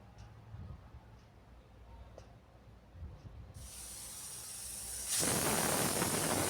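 A pressure cooker cooking spinach and lentils starts to vent, beginning with faint ticks and quiet hiss before a loud, steady burst of steam rushes out near the end.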